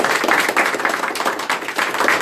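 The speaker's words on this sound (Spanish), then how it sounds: "Démosle ese aplauso al Señor." Church congregation giving a round of applause to the Lord during a livestreamed Easter service, close and loud, dense rapid clapping from many hands sustained throughout with no speech.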